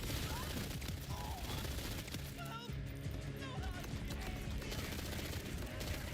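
Rapid automatic weapon fire in Borderlands 4 rattles in dense, fast bursts beneath game effects and a talking voice, steady and loud throughout.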